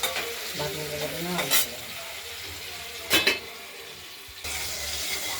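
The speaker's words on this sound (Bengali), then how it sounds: "আলুগুলো ভাজা হচ্ছে।" Potatoes fry in a pan with a constant sizzle, broken by a few loud scrapes and clanks of a spatula being stirred against the pan, with no voices.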